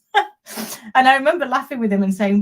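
A single sharp sneeze bursts out briefly near the start, followed by someone speaking in an interview setting.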